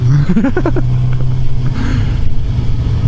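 A 2015 Suzuki GSX-R750 sport motorcycle accelerates with quick rising engine revs early on, then settles into a steady drone under heavy wind rush.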